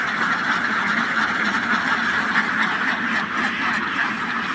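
A large flock of ducks on a duck farm quacking continuously, a loud dense chorus of overlapping calls with no pause.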